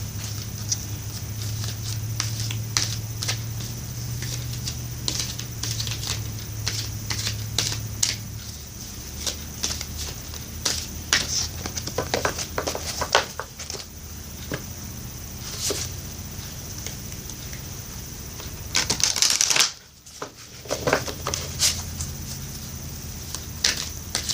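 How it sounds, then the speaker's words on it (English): An oracle card deck is shuffled by hand, with soft repeated papery flicks and riffles close by, steady and fairly quiet over a faint background hum, with one brief louder rustle near the end. "What I'm going to do now is shuffle for you the Sacred Rebels Oracle deck."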